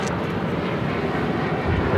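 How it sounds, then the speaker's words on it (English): A Southwest Boeing 737-800 in Illinois One livery takes off from Los Angeles International bound for Tucson, a moderate, steady jet roar that builds slightly toward the end with no voices. "taking off to Tucson on the 737-800 in the Illinois 1 livery"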